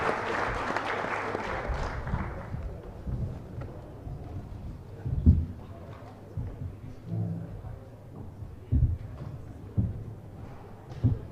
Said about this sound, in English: call upon the participants to give a round of applause to our very distinguished